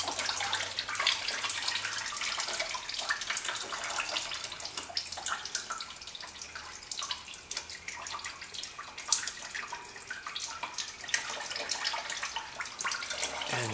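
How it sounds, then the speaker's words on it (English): Engine oil trickling out of a loosened oil filter on a 2007-2013 Chevy Silverado during an oil change: a steady, hissing liquid drain that runs throughout with no break. "once you have it loose enough by hand, you can just unscrew it and let that drain out a little bit too"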